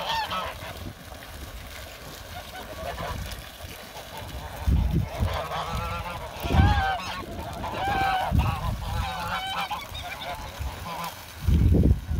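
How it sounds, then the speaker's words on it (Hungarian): Several geese bathing in water honk repeatedly nearby, overlapping calls in irregular bursts, with occasional splashing or thumping sounds underneath. "ezek a libák nagyon szeretnek fürdeni"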